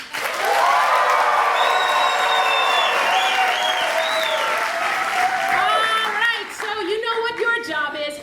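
A theater audience at a musical show breaks into loud, sustained clapping, with rising whoops and cheering voices riding over the applause throughout.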